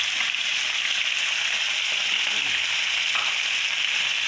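Chopped onion and dried red chillies fry in hot oil with five-spice seeds, giving a steady, close, continuous sizzle and crackle with no voices over it.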